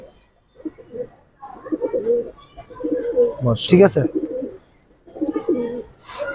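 Silver and bagha pigeons from a large collection coo in short bursts beneath someone talking close by; other voices join intermittently.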